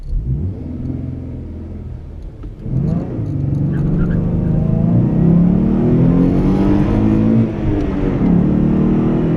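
A 2012 Ford Mustang with a 3.7 engine revs up and accelerates hard from a standstill to 60 mph at night, rising steadily in pitch and loudness through gear changes, close and sustained with a low rumble.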